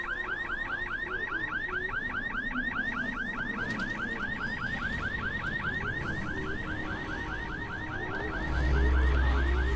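Repeating electronic whoop of a car alarm in the video game Dying Light, looping rapidly and steadily at a loud, close level for most of the stretch before a low rumble rises near the end.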